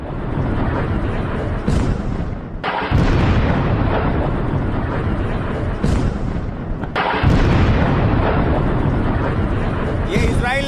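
Heavy booming explosions from Israeli strikes in Lebanon roll and echo one after another, loud and sustained, with brief sharp bursts breaking through the rumbling wash.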